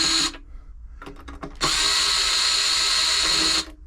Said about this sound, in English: I'm going to take the bottom off it, which is just a matter of lots of Phillips screws.